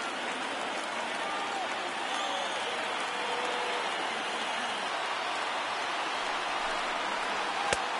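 A baseball stadium crowd in MLB The Show 19 roars and cheers on its feet in a steady, dense wash of noise that stays constant throughout, with a single sharp click near the end.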